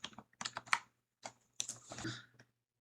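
Computer keyboard keys pressed in a quiet room, a quick irregular cluster of clicky taps followed by a few more keystrokes, close and crisp with no talking.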